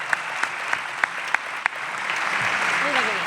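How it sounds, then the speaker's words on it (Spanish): An audience bursts into applause after a few sharp, evenly spaced claps, building into dense, steady clapping, with a voice starting to speak over it near the end. "un aplauso para esto."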